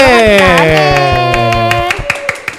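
Children clap at a church worship service during winter Bible school. Regular claps ring under a loud sustained voice for the first two seconds, then a few sparser claps follow.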